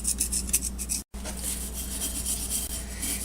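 Dirt and crud scraped off an old Scout vise being restored, a close raspy rubbing in short repeated strokes with a brief pause near the start, no speech.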